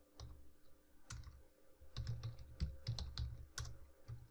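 Someone types code on a computer keyboard nearby, with quiet, irregular clusters of key clicks and taps and short pauses between them.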